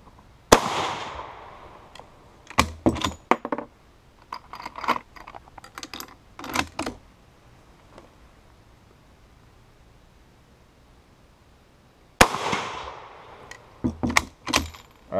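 French Lebel Model 1886/93 bolt-action rifle firing 8x50R rounds outdoors: sharp, loud shots with echoing tails, a cluster early on, then a long quiet gap before a further string of closer-spaced shots near the end.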